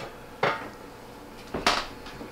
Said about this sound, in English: I'm going to set the lid over here.